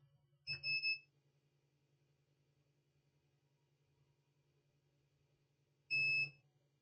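A multimeter in diode test mode beeps twice, about five seconds apart: two short, clear electronic tones over a faint low hum while a solar charge controller circuit board is being repaired.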